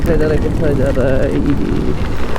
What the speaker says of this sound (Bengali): বৃষ্টি শুরু হয়ে গিয়েছে